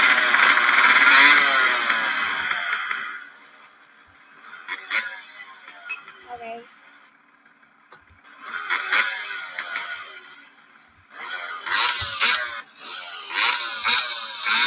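An off-road motorcycle engine revs in a video game in repeated loud bursts separated by quieter idling gaps, buzzing and climbing in pitch with each throttle blip.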